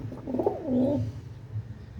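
Pigeons in a loft cooing close by, one clear rolling coo that rises and falls over a soft murmur of other birds, with no people talking.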